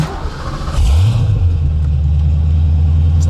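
Ford Mustang Foxbody V8 fitted with SLP Loudmouth exhaust dumps cranks and fires up, rising into a loud, deep, steady rumbling idle close by, no voices.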